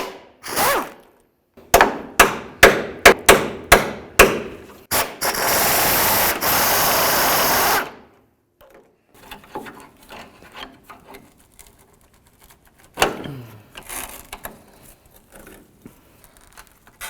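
A ratchet on a pivoting extension loosens a sway bar bolt on a GMC Sierra 1500 truck: a quick run of sharp clicking strokes, then a long spray-like hiss, followed by scattered tool clanks and handling.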